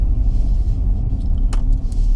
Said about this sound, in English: I'm driving here, so forgive me.